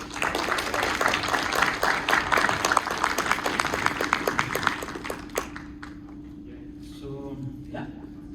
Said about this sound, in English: So Leo, come on up and give a round of applause.